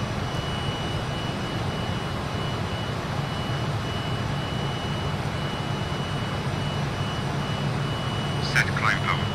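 Jet engines of a Fokker 28 airliner in a flight simulator hold a steady, loud, broadband roar with a faint whine as the aircraft accelerates, sustained throughout with a few short chirps near the end.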